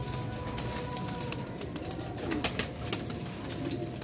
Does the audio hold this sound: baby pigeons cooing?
yes